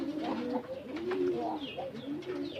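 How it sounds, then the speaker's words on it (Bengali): Pigeons kept on a home rooftop coo softly and continuously, overlapping low throaty calls close by, with faint rustling and no talking. "তো এইভাবে আমি কবুতর পালন করতেছি।"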